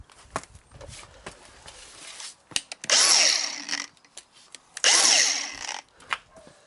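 Angle grinder whining in two loud bursts of about two seconds each as it cuts a cardboard wheel arch on an Alfa Romeo Giulietta, with quieter handling knocks and taps in between.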